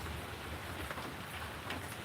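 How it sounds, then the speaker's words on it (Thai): Light rain falls steadily outdoors, a continuous soft hiss of drops with a low rumble beneath, even and unbroken for the whole stretch. "ฝนตกไม่แรงนะคะทำให้เย็นขึ้นมานิดนึงค่ะ"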